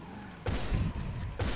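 Two heavy shotgun blasts from a video game boom out about a second apart after a quiet moment, each a sharp, loud burst with a short tail.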